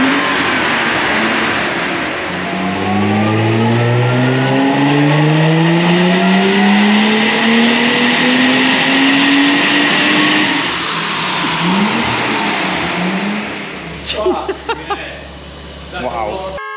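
A supercharged Mercedes C32 AMG V6 revs hard on a dyno, its loud engine note sweeping steadily upward through the gears over about fourteen seconds, then cutting off as brief voices and clatter follow.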